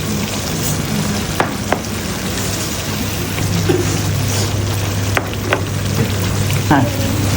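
A spice paste simmers in a pan, sizzling and bubbling steadily at close range, with a few sharp clicks and taps breaking through the constant crackle.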